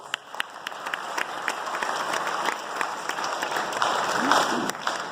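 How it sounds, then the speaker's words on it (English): At a high school fall sports awards night, a crowd applauds an assistant athletic director with a round of scattered clapping that builds slightly and stays fairly distant, with a voice murmuring faintly beneath. "Give Dan a round of applause."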